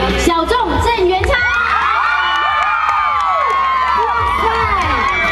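A crowd cheers, whoops and shouts excitedly, with children's voices among them, to welcome a mystery guest, actor Zheng Yuanchang, at a 2008 album signing event in Ximending. The cheering is loud, close and continuous throughout.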